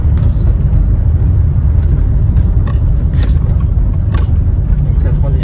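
Dense road traffic around Place de l'Étoile in Paris, with cars, buses and bicycles in the rain, forms a loud, continuous rushing roar with faint clicks and rattles on top.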